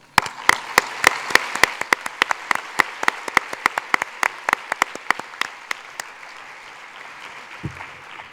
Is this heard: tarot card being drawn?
no